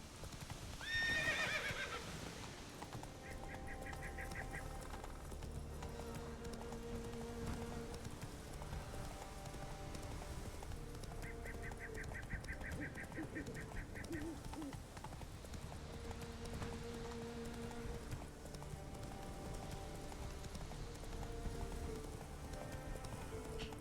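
Horse in The Witcher 3 gives a loud whinny at the start, then steady clip-clop hooves continue under ambient game music for the rest of the stretch, with no talk.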